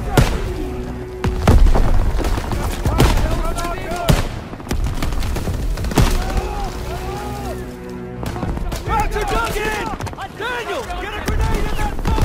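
A grenade blast amid gunfire on a World War II D-Day beach battlefield in Call of Duty WWII, thudding explosions and bursts of shots under shouting soldiers and a swelling orchestral score, loud and chaotic throughout.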